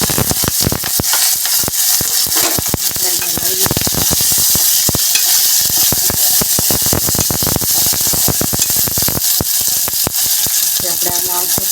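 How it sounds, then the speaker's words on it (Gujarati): Cumin, mustard seeds, green chilies and chopped ridge gourd sizzle loudly in a hot pan for khichdi, a constant crackling hiss with rapid pops and stirring, close and unbroken. "જીરું, લીલા મરચાં નાખીશું. આપણે ગલકા નાખીશું."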